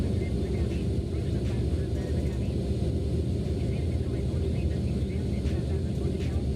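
Steady low rumble of an Azul Embraer ERJ-195 airliner cabin after landing, continuous engine and rolling noise with faint voices underneath.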